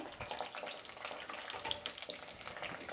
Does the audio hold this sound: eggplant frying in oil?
yes